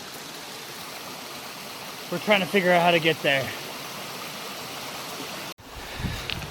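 Mountain river running in a secluded valley, a continuous broadband wash of moving water that holds steady throughout while a person speaks briefly over it, followed by a short dropout and a soft knock near the end.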